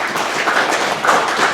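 A conference audience gives a brief burst of applause before a medical lecture, a dense patter of hand claps at moderate distance with no talk over it.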